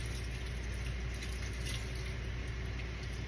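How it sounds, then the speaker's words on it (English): Rinse water being poured off rice at a stovetop cooking station gives a faint, continuous wash of splashing and trickling with no break or change in level. "I'm just going to pour the rice water off."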